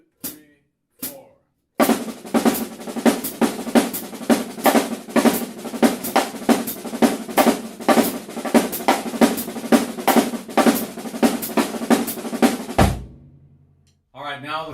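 Drumsticks play a sticking pattern at double speed, a dense run of quick, even strokes heard up close. A few isolated hits come before it, and a sustained low tone swells in briefly near the end.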